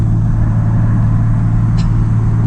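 A Nissan Skyline R33 driving, its engine a constant loud low rumble with steady tone from inside the car and no clear rise in revs.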